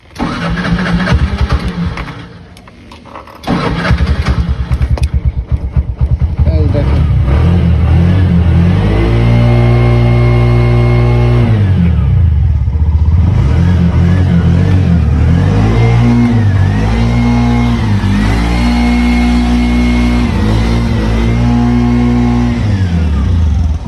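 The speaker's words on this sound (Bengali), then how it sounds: "গাড়ির সাউন্ড দেখছেন এলপিজি গাড়ি যারা চালান তারাই বুঝতে পারবেন যে এলপিজি গাড়ি আসলে কেমন সাউন্ড দেখেন" A 2020-model Bajaj Runner LPG/CNG auto-rickshaw engine cranks and catches, then settles into a loud, close, steady running note with repeated revs rising and falling.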